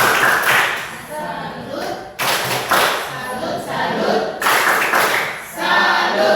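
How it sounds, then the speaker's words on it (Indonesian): A classroom of students gives a group the patterned 'tepuk salut' clap after a presentation, loud sets of rhythmic claps and thumps in repeated bursts, with voices joining in between. "Sekali lagi kita berikan tepuk salut."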